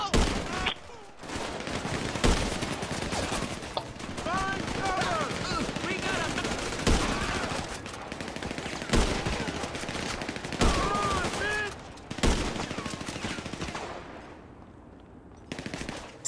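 Machine gun fire in GTA 5 Online, sustained rapid bursts rattling almost without pause, with sharp single shots and game sound effects mixed in and a player talking over the gunfire.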